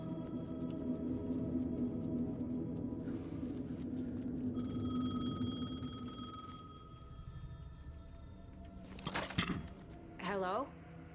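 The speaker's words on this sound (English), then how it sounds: "The payphone was ringing." Payphone ringing in the video game Alan Wake 2, a repeating electronic ring with steady tones over a low ambient drone, followed by a louder burst and rising sweeps near the end; a voice speaks over it.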